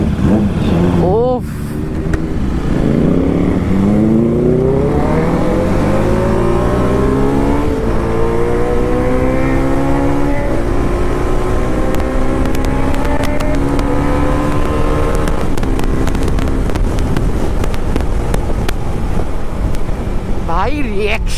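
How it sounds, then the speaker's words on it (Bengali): A Kawasaki ZX10R superbike roars while being ridden on the road, its engine revving up and down through rising and falling pitch sweeps, loud and close, with wind buffeting the microphone throughout. "আজকে সারা ভিডিওতে এই সুপার বাইকের সাউন্ড তোমরা শুনতে পারবে সারা ভিডিওতে"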